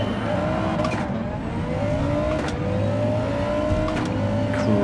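Car launching hard off the line in Gran Turismo 7, engine note climbing steadily through several gear changes, loud and continuous close by with a faint tire squeal near the end.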